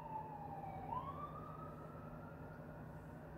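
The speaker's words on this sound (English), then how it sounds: "That ambulance that went by." A faint, distant siren slides in pitch as it passes, a single sustained wail drifting over low background rumble.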